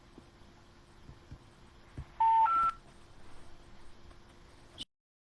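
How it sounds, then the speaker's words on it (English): Two distinct DTMF keypad tones from a batch dialer sound in a quick sequence over a low steady hum and faint background noise, then the line cuts to silence. "Here using batch dialer."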